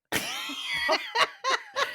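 A short burst of coughing, several harsh rasping coughs in quick succession, close to the microphone and fairly loud.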